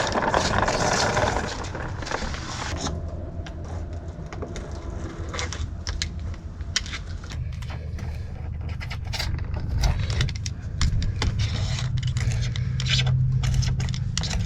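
Old deck material being pulled off a cheap boat in cold weather gives continuous close scraping, rubbing and crackling tears, with a few sharper cracks and a low rumbling grind building toward the end.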